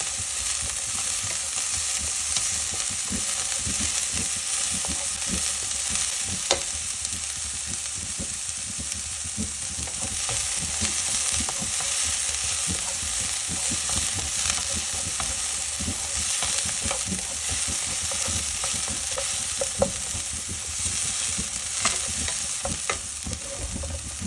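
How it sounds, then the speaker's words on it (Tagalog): Onions frying with garlic and ginger in a pan, a steady close sizzle running throughout as a utensil stirs them, with occasional scrapes and clicks against the pan and no voices. "haluin ang haluin para maluto ang sibuyas."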